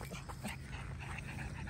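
Young puppies in a kennel whimpering and yipping softly, a continuous low chorus of small whines against a steady background rumble.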